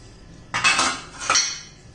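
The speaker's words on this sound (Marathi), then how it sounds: "सर्व भांड्यांना तेल लावून घेतो." Metal idli mould plates clatter twice in quick succession while being greased with oil, two bright close clinks and scrapes separated by a short pause.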